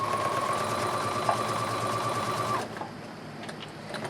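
A sewing machine straight-stitching fabric for a pioneer dress apron, a close, steady whirring hum that runs for about two and a half seconds and then stops, leaving quieter handling sounds.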